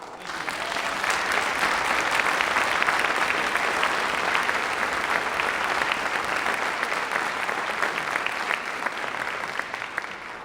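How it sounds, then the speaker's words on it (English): An audience gives steady, dense applause for a performer on a rocking melodeon at a live music event. The clapping holds strong for about ten seconds before easing slightly at the end. "Round of applause for Ned."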